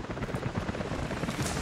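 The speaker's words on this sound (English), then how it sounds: "Jacob, helicopters are headed your way." Helicopter in Rise of the Tomb Raider heading in: a steady, fast rotor chop thumps continuously at moderate volume, close and unbroken throughout.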